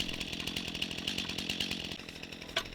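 A chainsaw cuts through timber during land clearing on raw homestead ground, its steady high-pitched engine whine running nearby and unbroken for a few seconds, then easing off.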